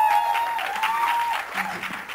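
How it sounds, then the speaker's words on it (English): Audience applause at a film trailer launch event, a short continuous wash of clapping heard through a slightly muffled, reverberant hall, with a faint voice underneath. "Big round of applause for her."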